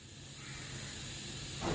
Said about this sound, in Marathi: आता आपण इथे कुकरचं झाकण लावून एक दोन ते तीन शिट्ट्या करून घेऊया